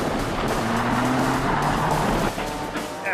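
Rally car engine revving and driving on a stage during round 3 of the ICCR 2022 championship, a loud continuous roar with shifting engine tones and a brief dip near the end.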